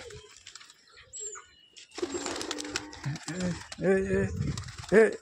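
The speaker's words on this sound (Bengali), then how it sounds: "দেখো বন্ধুরা বাজির পায়রা দেখো, আজকে শুধু বাজির পায়রা দেখো।" Tumbler pigeons flying out in the open, with flapping wings fluttering in short bursts close by while someone talks over much of the sound and birds call faintly in the background.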